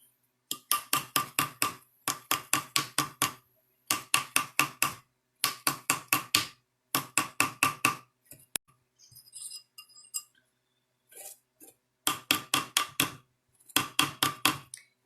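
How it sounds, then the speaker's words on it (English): A rawhide mallet shaping a metal Halloween kitty pendant on a hoop mandrel: close, crisp tapping in quick bursts of five or six blows, separated by short pauses, with faint handling clinks between. "I'm going to take the hoop mandrel and a rawhide mallet."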